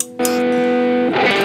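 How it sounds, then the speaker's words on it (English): A distorted electric guitar chord from a Headrush MX5 in distortion mode rings out suddenly, sustains with a buzzing edge, then shifts to a grittier tone near the end. "automatically I'm in distortion mode."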